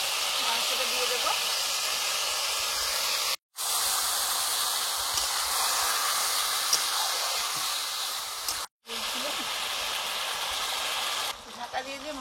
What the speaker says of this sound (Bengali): মশলাটা কষানো হয়ে গেছে, এবারে ম্যারিনেট করা মাংসটা দিয়ে দেবো।